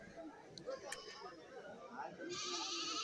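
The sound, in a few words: goats bleating at a goat market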